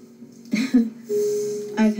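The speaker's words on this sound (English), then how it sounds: "I have been coughing in the background, the backdrop of this." A person coughs and clears their throat close by in a few rough bursts mixed with voiced sounds.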